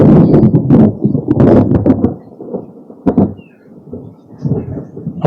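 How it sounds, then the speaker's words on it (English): Thunder rumbles through a darkening storm in loud, rolling bursts with a sharp crack near the middle, fading between peaks and then swelling again. "So it's starting to thunder and lightning."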